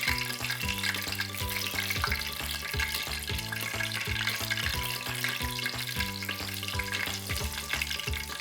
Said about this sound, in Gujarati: હવે આપણે એને બિલકુલ ધીમા તાપે તળવાની છે.